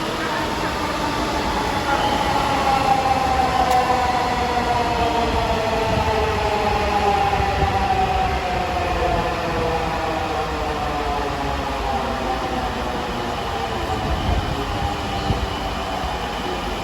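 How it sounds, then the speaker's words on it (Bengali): A metro rail train in Dhaka, bound for Motijheel, runs steadily near a platform with a continuous rumble and a rising electric whine, loud and unbroken throughout, with faint voices in the background. "উঠে পড়লাম মেট্রো রেলে।"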